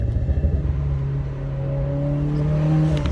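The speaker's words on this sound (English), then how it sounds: "Go ahead and do a little downshift." A 2015+ Subaru WRX engine fitted with a short shift plate hums and rises in revs during a downshift, a steady close rumble that swells toward the end.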